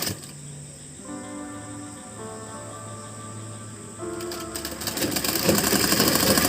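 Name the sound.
sewing machine stitching a blouse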